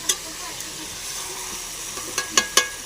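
Chicken pieces frying in oil while a spoon stirs them: a soft continuous sizzle, punctuated by sharp metallic scrapes and clinks, one near the start and a quick cluster of three toward the end.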